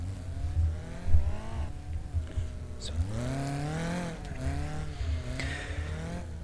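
BriSCA F2 stock cars roll onto the track at Coventry for the World Final, their engines revving and rising in pitch as several pass close by, with a voice talking over them.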